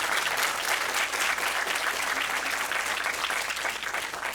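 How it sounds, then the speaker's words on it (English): An audience at a conference session on emergency shelters in rural and remote areas gives the speakers steady, even applause. It carries on for about four seconds at moderate volume with no talking. "Could we get a nice round of applause for all 4 of our speakers today?"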